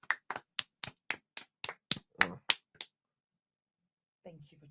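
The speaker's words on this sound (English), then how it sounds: "Let's give you a round of clap." Eleven sharp, evenly spaced hand claps ring out close and crisp over about three seconds, followed by silence and then a brief murmur of a voice at the end.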